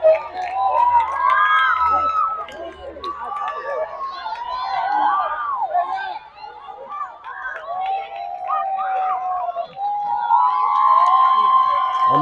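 Fluminense supporters at an under-10 youth football final against Cruzeiro cheer and shout in a lively chorus of high, excited voices, with steady crowd noise throughout and someone talking nearby.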